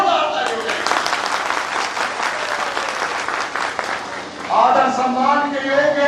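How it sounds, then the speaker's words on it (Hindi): A crowd at a sanitation workers' conference gives a loud round of applause for about four seconds, then a voice starts speaking over the fading claps. "भाई देसी के लिए एक दफा जोरदार ताली बजाइए।"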